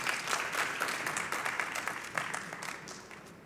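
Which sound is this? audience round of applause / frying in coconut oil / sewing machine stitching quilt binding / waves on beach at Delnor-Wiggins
audience round of applause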